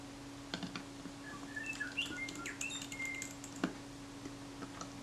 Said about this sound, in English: that's our bell bird